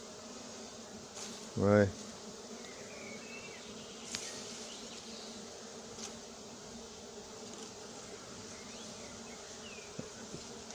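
A honeybee swarm being moved into a hive hums in a soft, steady, continuous buzz up close outdoors, with one brief spoken word early on.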